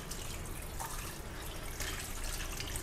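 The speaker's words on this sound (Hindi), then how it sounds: "जी तो फिश को धो लेते हैं।" Tap water runs steadily into a sink while fish are washed, a continuous splashing hiss with close, faint surges and no talk.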